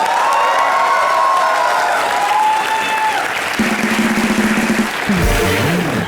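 Studio audience applause on the Hindi comedy show Comedy Nights Live, a loud sustained wave of clapping with some cheering that continues throughout, with music entering near the end.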